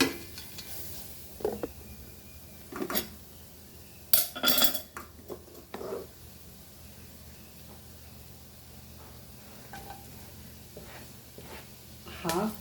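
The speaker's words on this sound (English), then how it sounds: "Now we'll put half of the sausages in this." Goan sausages are dropped into a pan for choris pulao, with clatters of utensils and a spoon scraping against the metal, light stirring and a faint sizzle between, and a person talking softly in between.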